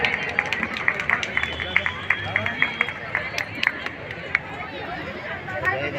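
An audience at a 77th Republic Day ceremony in Sujangarh, Rajasthan claps in a steady, rhythmic beat. Crowd chatter and voices run under the clapping, which fades toward the end.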